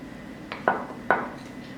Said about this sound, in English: I'm gonna stir this concoction up, and then I'm gonna stir in the butter until crumbs form